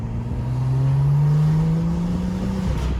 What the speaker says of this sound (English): I was able to hear both the intake and motor noise much clearer